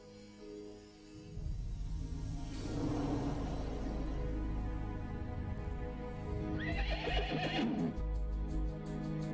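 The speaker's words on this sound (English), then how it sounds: "Black horse coming." Horse whinnies loudly and hooves pound in a galloping rhythm over a busy staged Christmas drama scene, with a second burst of neighing near the end.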